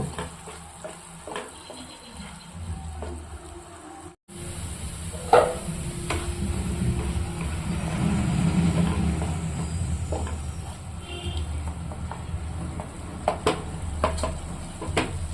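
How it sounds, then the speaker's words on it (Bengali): Koi fish masala is stir-fried in a pan, a continuous low sizzle punctuated by scraping spatula strokes and occasional clinks against the metal over about fifteen seconds. "ভালো করে কষিয়ে নেব"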